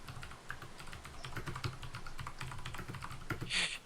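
Rapid typing on a computer keyboard, a steady stream of clicking keystrokes, close and fairly loud, with no voices.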